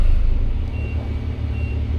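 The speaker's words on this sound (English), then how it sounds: "We got an exhaust alarm go off." A boat's exhaust alarm beeps at a steady high pitch in short spaced tones after a starboard engine fault, over the loud constant rumble of the engine.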